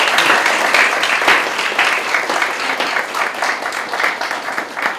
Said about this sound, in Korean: 큰 박수로 강사님 영접해 주십시오